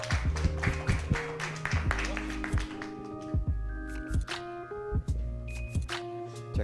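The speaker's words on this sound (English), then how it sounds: "Warm round of applause" Audience at a startup founders and angel investors event clapping for a presenter, irregular claps over tonal music and background noise, moderately loud throughout.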